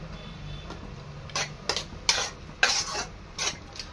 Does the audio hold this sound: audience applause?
no